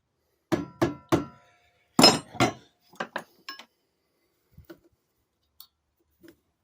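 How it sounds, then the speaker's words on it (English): A big hammer strikes the front shock of an Arctic Cat Ramrod snowmobile, a series of sharp metallic clanks in quick groups, followed by a few faint light taps. "I never did find that little hammer. This big one should work just fine."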